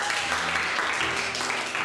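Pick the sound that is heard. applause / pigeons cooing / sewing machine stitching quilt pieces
applause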